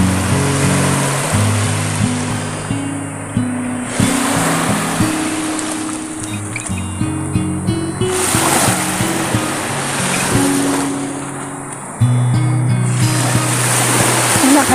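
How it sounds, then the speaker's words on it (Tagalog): Ocean waves surge and crash in repeated swells close by at the seaside, reaching the vehicle's tires, under a continuous low engine drone. "Parang lumalakas yung ano, yung alon niya."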